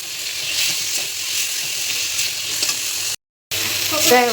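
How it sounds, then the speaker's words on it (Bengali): Lota and kathol bichi stir-fried in oil with turmeric and salt for a Sylheti dish, a steady loud sizzle under spatula scrapes, cutting out briefly near the end before resuming with a sharper hiss. "এখন দিয়ে দেবো লতা আর কাটল বিচিগুলো দিয়ে একটু কষিয়ে নেব"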